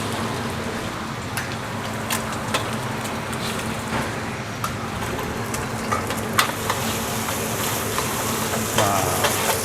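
An egg sizzles steadily in hot oil left from frying salted squid, with faint stirring scrapes and crackles throughout, as a base for squid fried rice.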